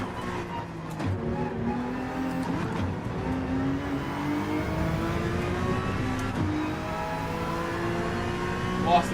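Race car engine in Gran Turismo 7 on the Yas Marina circuit, droning steadily at high revs throughout with harmonic pitch sweeps as it shifts and accelerates, close and continuous, with faint commentary voices underneath.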